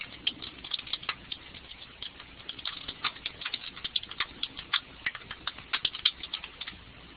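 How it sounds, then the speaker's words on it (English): Someone typing on a computer keyboard nearby, a steady irregular patter of light clicking keystrokes that continues for several seconds, thin and close with no talk over it. "I can hear someone typing."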